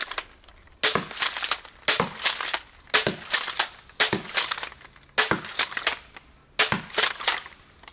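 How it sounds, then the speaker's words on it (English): Six sharp shots from a bolt caster toy launcher, evenly spaced at roughly one per second, loud and close, each a crisp crack with a short mechanical rattle, no talk. "Oh, that was 6 shots."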